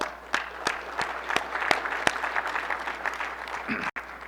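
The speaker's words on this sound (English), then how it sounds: "you deserve a round of applause" A round of applause at a technology leaders' roundtable in Nashville, opening with a few distinct sharp claps that thicken into steady clapping from a modest crowd, with a brief dropout near the end.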